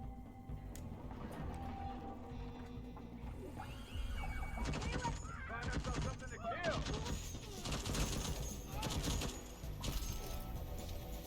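Rapid bursts of turret gunfire in a sci-fi video game, dense crackling volleys that build up midway and continue over game effects and a voice talking.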